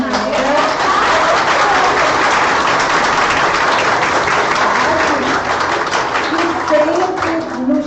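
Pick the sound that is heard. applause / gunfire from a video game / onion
applause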